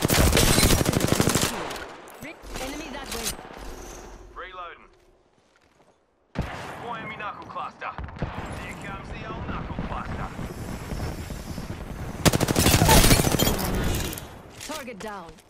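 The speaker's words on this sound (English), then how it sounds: "Being shot at." Apex Legends gameplay with bursts of automatic gunfire. Loud rapid volleys open the clip, then comes a brief silence, then mixed game noise, and a heavy burst returns near the end, with game voice lines between the shots.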